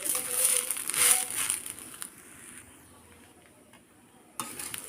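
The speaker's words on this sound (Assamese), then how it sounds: "এইখিনি এতিয়া ধুনীয়াকৈ ভাজি ল'ম" Rice with a little salt is stirred and fried in a pan for chicken pulao, giving close scraping and sizzling that is busy at first, then quieter, before another burst of stirring near the end.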